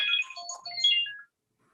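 A phone ringtone going off during a board meeting, a short bright electronic melody of rising and falling tones, clear and close, then stopping into silence.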